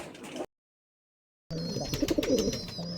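A pair of Giribaz pigeons with feathered feet, kept in Rajshahi, coo softly and close by. The low murmuring is broken by a short dead silence before it resumes, with faint chirps around it.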